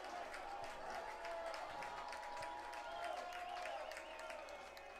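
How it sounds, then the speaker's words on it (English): Fans at a minor-league baseball game cheer and clap continuously as a pitcher falls behind on a 3-0 count, a faint, distant crowd swell with a whistle rising above it. "And the fans begin to start cheering."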